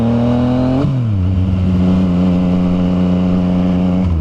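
A Yamaha FZ09 motorcycle with a 900cc engine revs loud and close, its pitch dipping once early and then holding a steady, droning tone to the end.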